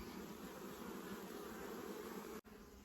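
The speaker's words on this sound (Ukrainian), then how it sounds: "Кожен день же бджола обльотується" A steady drone of buzzing honeybees around hives, faint and continuous, with a brief dropout near the end and no talking.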